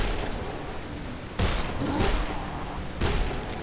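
Gunfire cracks out in a few sharp bursts over a constant, noisy rumble of background sound in the video game Dead Island.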